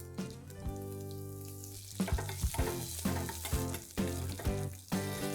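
Coriander, fennel and carom seeds with curry leaves sizzling in hot oil, a close hiss with bursts of popping and crackling, plus clinks of a spoon against the pan.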